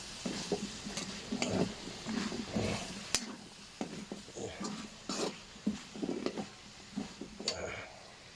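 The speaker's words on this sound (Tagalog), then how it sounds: "Tapos haluin po natin." Pinakbet vegetables (squash, okra, bitter gourd and eggplant) stirred in a pan, repeated scraping and clattering strokes in an uneven rhythm over a low sizzle, close and moderately loud.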